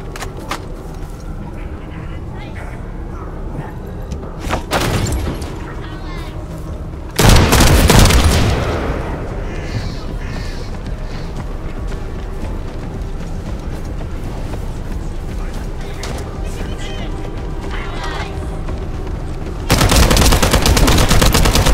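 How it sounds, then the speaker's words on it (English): Heavy automatic gunfire in the sci-fi shooter The First Descendant crackles in long bursts, with loud booming blasts around the middle and again at the end, under game dialogue and effects. "Stop the gunfire."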